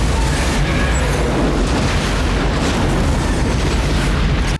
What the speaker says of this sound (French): Je vous demande de noter la puissance de l'explosion